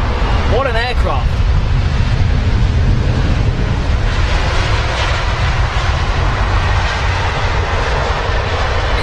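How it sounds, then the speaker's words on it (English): An Airbus A350 airliner touches down at London Heathrow, a loud, continuous, broadband engine and wind roar filling the whole span, with a brief voice-like tone near the start. "Got the touchdown. What an aircraft."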